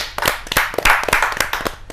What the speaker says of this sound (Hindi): आप तालियों से स्वागत कीजिए देव कुमार पंवार जी